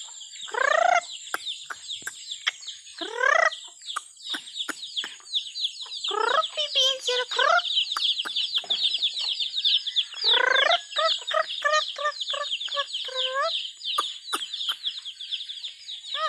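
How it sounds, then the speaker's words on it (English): Chickens cluck and squawk in a busy, continuous chorus of repeated calls, some loud and close, others overlapping behind, with a constant high insect-like drone underneath and no talking. "Oh, chicken. Hello, chicken."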